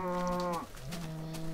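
A baby cow in the Minecraft video game gives a loud, drawn-out moo that bends downward in pitch and then levels off into a second short, steady moo, heard alone without talk.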